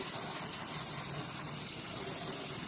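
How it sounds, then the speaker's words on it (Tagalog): Tap water pours steadily onto a Haier split-type inverter aircon air filter to rinse off dirt, a constant close gushing wash filling the whole moment without a break and no voice over it. "nakaslakasan natin ng kunti yung tubig"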